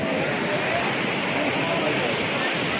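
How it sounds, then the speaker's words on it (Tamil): A river rushes beside the Kedarnath trek high in the Himalayas, a steady loud roar of flowing water that fills the whole moment without letup. "பக்கத்துலேயே ரிவர் ஓடுது"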